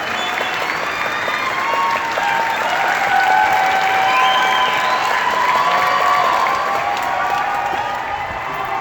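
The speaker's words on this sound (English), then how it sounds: "the crowd is going to go crazy. It's a giant crowd." Giant concert crowd at a Video Games Live show in Saskatoon, awaiting a song, roaring with sustained applause and cheering; loud, dense clapping and whoops held steadily without letup.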